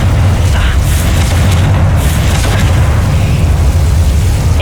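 A Confringo fire spell exploding in Hogwarts Legacy, a loud sustained booming blast with a deep rumbling low end that roars on without pause.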